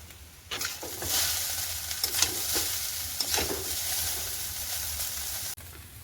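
Noodles fry steadily in a pan, a continuous crackling sizzle broken by a few scraping stirs; no one speaks.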